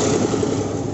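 A tractor beside a cotton field idles close by, a steady low rumbling engine drone with an even pulsing throb throughout.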